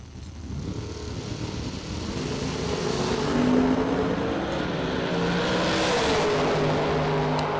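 A Corvette drag racing car launches down the strip at a drag racing event, its loud, sustained engine roar building and holding steady with no voices over it.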